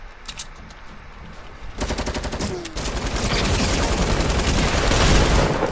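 Rapid gunfire rattles in the video game Fortnite during a sniper match, a burst of sharp shots that gives way to a dense, loud, continuous barrage building toward the end.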